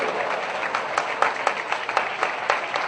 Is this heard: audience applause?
yes